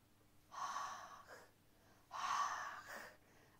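Two slow, heavy breaths, each a long rasping exhale followed by a short intake, close and loud against a quiet background.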